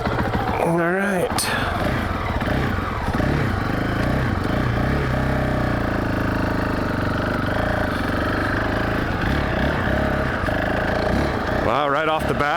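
A 2019 Honda CRF450X dirt bike engine revs up from a quiet idle, short rising throttle blips at the start and end around a steady running drone, close and loud.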